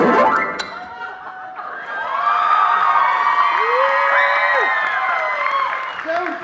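An audience claps and cheers over a bright musical sound with sliding tones at a Midsummer Scream 2018 Dark Harbor presentation, the crowd noise swelling in the middle and fading toward the end.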